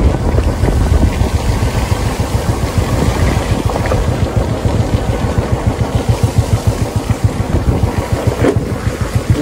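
A Royal Enfield Bullet motorcycle on icy Himalayan roads in Himachal in December: a loud, close engine with a rapid, even thumping beat, a steady pulse alongside wind noise and no speech.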